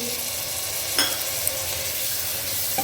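Finely chopped tomatoes go into a sizzling Rajasthani panchmel mixed dal tadka: a loud, dense, steady hiss of frying fills the scene, with a couple of brief stirring scrapes.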